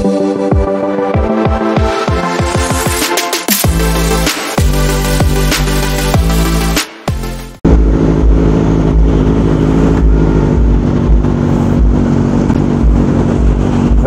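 A Kawasaki ZX4RR motorcycle revs loud and close while riding along a city street, its high-pitched inline-four engine rising through rapid gear changes, then settling into a steady cruising drone, with no talking.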